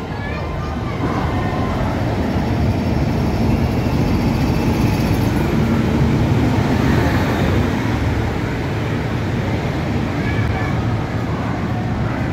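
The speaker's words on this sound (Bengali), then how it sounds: "আমাদের ট্রেন 12821 শালিমার পুরী ধৌলি এক্সপ্রেস সাঁতরাগাছি স্টেশনের 1 নম্বর প্ল্যাটফর্মে এসে উপস্থিত হয়েছে" The 12821 Shalimar–Puri Dhauli Express stands at platform 1 of Santragachi station, with a loud continuous rumble and broadband roar of train and platform noise filling the whole stretch.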